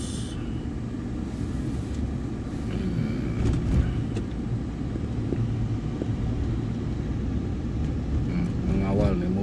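Low steady rumble of a car driving along while escorting a white car after dawn prayers, constant road and engine noise from inside the vehicle with a voice talking over it.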